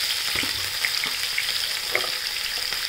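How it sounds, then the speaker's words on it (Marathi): Chana dal, urad dal, moong dal and chopped onion sizzle steadily in hot oil, with soft stirring scrapes now and then, close and fairly loud with no talk. "मुगाची डाळ आणि कांदा। सगळं परतून घ्यायचं"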